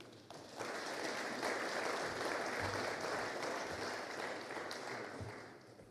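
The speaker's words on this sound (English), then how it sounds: "Please join me in a round of applause for Lieutenant General Jakob." An audience at a book launch on the evolution of warfare applauds a lieutenant general, steady clapping from many hands that swells quickly, holds evenly and tapers slightly toward the end, fairly soft overall.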